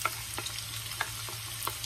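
Half a large onion, diced, frying in a pan, a steady close sizzle broken by soft stirring clicks and taps.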